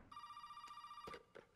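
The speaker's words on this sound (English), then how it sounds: "I hear the phone." A telephone in the video game Resident Evil 7 rings with a steady electronic bell tone, fairly quiet and interrupted by a few soft thumps.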